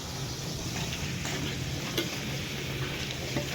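Eggs frying in a pan for a child's breakfast give a steady, even sizzle with faint occasional scrapes, heard close and continuous throughout without speech.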